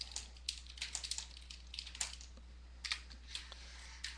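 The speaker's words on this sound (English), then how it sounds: "Let me type a message to Will." Fingers tapping out a message on a computer keyboard, quick irregular bursts of light clicks with brief pauses, close and quiet over a faint steady hum.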